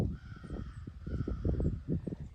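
A crow gives a rapid series of short, harsh caws, fairly faint and somewhat distant, repeated in an uneven rhythm.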